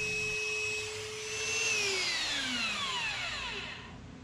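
A power tool cuts relief slots into threaded all-thread rod for a floating-shelf build, a loud steady whine whose pitch sweeps downward as the cut bogs, continuous and alone, then trailing off at the end.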